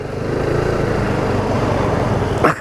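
A BMW C400GT scooter engine running with a steady, buzzing drone, loud and close, holding an even pitch with a brief knock right at the end.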